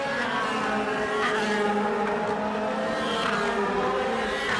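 A DTM race car at the Norisring, heard onboard, holds a loud, steady engine drone with revving harmonics as it crosses the start-finish line during the 2014 race.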